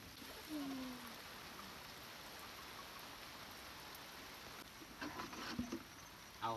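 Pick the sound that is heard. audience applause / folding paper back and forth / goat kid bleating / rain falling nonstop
rain falling nonstop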